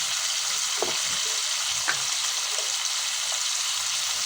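Onions sizzle steadily with whole spices in a hot pan, a constant close crackling hiss with a few light scrapes of stirring.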